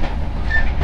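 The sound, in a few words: train noise inside KA Brantas executive carriage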